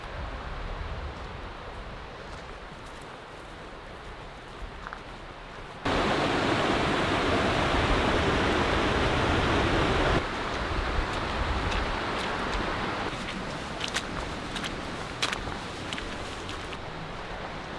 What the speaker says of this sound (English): Cool rocks, walking right next to the creek.